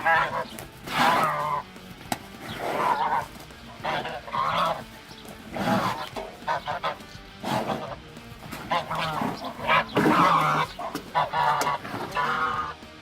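Birds fighting a cow many times their size give loud, repeated honking squawks and clucks in irregular bursts, close to the microphone.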